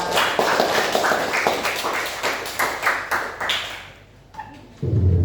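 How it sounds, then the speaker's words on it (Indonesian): A classroom of students gives a classmate named Naura a brief round of applause during a job-training lesson, crisp claps that fade out, then a thud and a few quiet sounds at the end. "tepuk tangan buat Naura"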